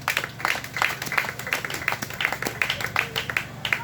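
A church congregation applauding during a sermon, with rhythmic, fairly close clapping from a group that keeps a loose steady beat throughout.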